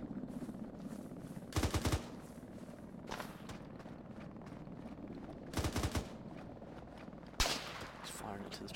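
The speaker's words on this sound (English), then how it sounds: "He's firing into the tree, shit, under fire." Gunfire in the video game ArmA 3 comes in several short, sharp bursts, three or four volleys spaced a few seconds apart, over a low background while someone speaks.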